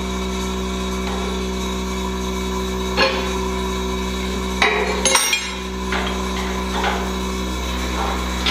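A vibratory feeder bowl runs while its springs are cranked down during tuning, giving a steady electric buzz with a low hum, broken by a few metallic knocks and clanks from the adjustment.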